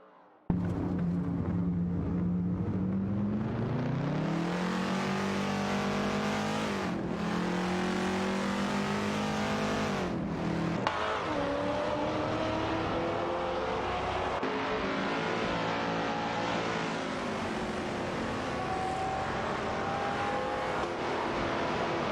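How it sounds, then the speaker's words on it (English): A Holden Torana A9X and a Maserati Bora race in a video game, their engines revving and shifting continuously and loudly, pitch climbing and dropping through gear changes with no talk. "Anabiosis is piloting a Holden Tirana ANX, while Funny Shell Gaming is in a Maserati Bora, showcasing a classic car duel on the track."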